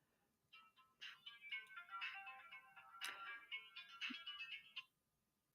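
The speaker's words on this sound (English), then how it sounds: "my phone is ringing" A mobile phone ringtone plays a bright electronic melody for about four seconds in a quiet room, then stops. There is no talking.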